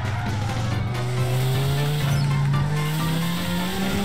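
A 3000-horsepower car engine drones steadily and climbs slowly in pitch as it revs, loud and close, with tire noise underneath.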